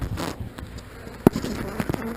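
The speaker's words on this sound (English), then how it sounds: "we've got a lot of bees in this bottom brood box" Honeybees in a crowded bottom brood box full of drone brood, in a hive readied for an artificial swarm. A soft, steady buzzing hum carries through, with a few sharp knocks and clicks close by.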